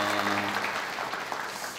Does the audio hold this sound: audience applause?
yes